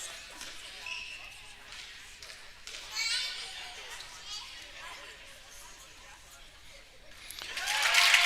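Crowd chatter in a school gym during a varsity girls' basketball game: a soft murmur of many voices, fairly faint and distant, swelling briefly and then growing louder toward the end.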